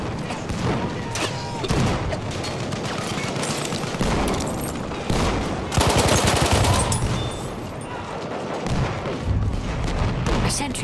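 Sustained machine gun fire in Battlefield 1 combat, with dense rapid bursts and booming impacts running loud and continuous, in-game voices calling out over the battle.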